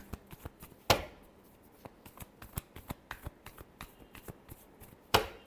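Tarot cards being shuffled by hand for a reading, a run of soft riffling clicks and light taps with two sharper, louder snaps near the start and end, close and alone with no voice.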